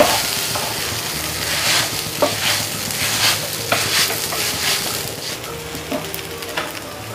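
Sago pearls (sabudana) sautéed uncovered in a pan, with a steady sizzle broken by rhythmic scraping and stirring strokes of a spoon, close and fairly loud throughout.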